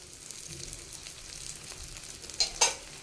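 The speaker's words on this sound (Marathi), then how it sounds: "थोडं थोडंसं तेल सोडूया" Appe sizzling in a little oil in an appe pan for a fasting snack, a steady soft frying hiss with occasional stirring, ending in two sharp close crackles near the end.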